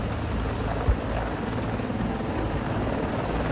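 A CH-53 Super Stallion heavy-lift military helicopter roars steadily nearby, its deep engine and rotor drone loud and continuous with a faint rhythmic beating throughout.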